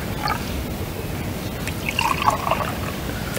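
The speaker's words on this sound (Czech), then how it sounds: "nalila čisté vody z naší zahrady" Clean garden water is poured into a glass, a soft continuous trickle and splash that brightens briefly near the middle, heard close and fairly quiet with no speech.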